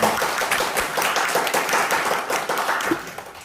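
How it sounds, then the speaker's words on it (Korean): Warm applause from a seminar audience in a Busan hall, welcoming a speaker: loud, close crowd clapping, thick and continuous throughout with a slight easing at the very end. "뜨거운 박수로 다시 한번 환영해주십니다."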